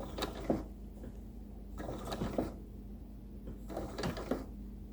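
A domestic sewing machine blanket-stitches a quilt binding in three short runs of steady mechanical whirring and clacking, each followed by a brief quiet pause, close and fairly soft.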